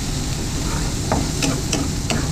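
Vegetables and egg stir-fried in a hot pan in a home kitchen, a continuous sizzle broken by several sharp scraping stirs of the spatula, close and loud, with no voices.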